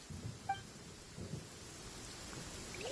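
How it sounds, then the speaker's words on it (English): A thunderstorm in the video game Genshin Impact: a low rumble of thunder rolls beneath a steady wash of rain, quiet and distant, with a couple of faint chiming game tones near the start. "Uh-oh! Lightning storm!"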